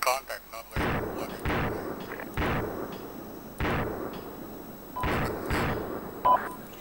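Gunfire in a military video game arrives as repeated heavy bursts roughly every second, loud and close, with a brief beep near the end and team chatter in the background.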